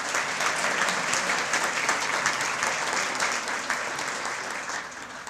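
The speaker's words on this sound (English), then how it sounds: "Let's give them all a round of applause." Steady, dense audience applause fills a hall at a Sarpy County Hall of Fame induction ceremony, continuous clapping from a crowd that holds near full strength and fades only slightly toward the end.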